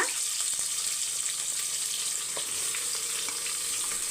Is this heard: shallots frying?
yes